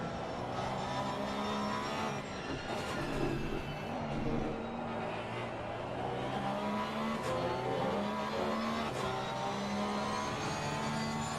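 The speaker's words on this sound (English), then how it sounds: "Love the sound of the Porsche too." A Porsche race car in a racing game at the Barcelona circuit, its engine droning steadily at high revs with shifting pitch and occasional tire squeal, continuous and moderately loud throughout.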